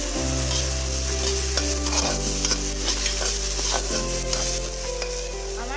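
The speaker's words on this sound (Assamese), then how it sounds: "আমাৰ ভেদাইলতা আলু প্ৰায় ভাজ খাইছে" Potatoes with bhedai lota, seasoned with black pepper, turmeric and salt, fry in a pan, a steady sizzle broken by stirring scrapes over a constant low hum.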